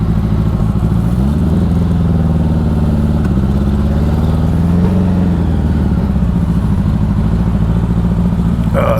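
A 1984 Honda Goldwing idling and creeping along while being pushed and turned around without reverse, a steady low rumbling engine drone with slight pitch wavers, close and continuous.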